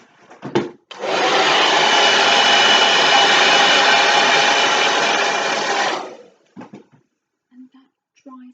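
A hair dryer blows steadily for about five seconds to dry paint on a recycled plastic bottle art piece, a loud, even whoosh that starts and stops abruptly, with a few brief knocks before and after.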